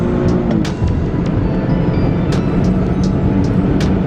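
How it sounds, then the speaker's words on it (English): A naturally aspirated VQ35HR V6 in an Infiniti FX35 holds a steady, loud drone under acceleration from inside the cabin, with faint road and wind noise and no talking. "I'll do a little bit of pull here, so you can hear this V6 rev all the way out"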